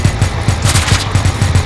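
Rapid automatic gunfire from weapons in Barotrauma, a submarine survival game: an even, fast string of about a dozen close, loud shots with no pauses and no talking.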